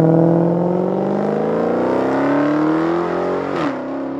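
A 2015 Dodge Challenger SRT Hellcat with its 707-horsepower engine revs hard and accelerates, its loud, close engine note rising steadily in pitch before a quick shift and drop, heard alone without talk.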